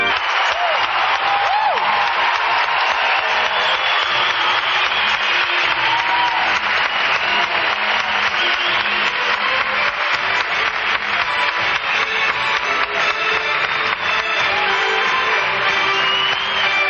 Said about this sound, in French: Les artistes offrent maintenant leur dernière pirouette au public qui les applaudit à tout rompre.